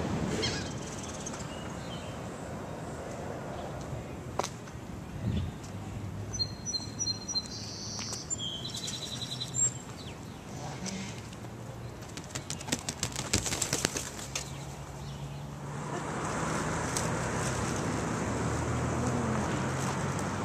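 Seagulls call a few times around the Seaside Heights boardwalk, brief cries over steady wind and surf, with a louder rush of wind or water building toward the end and no talking.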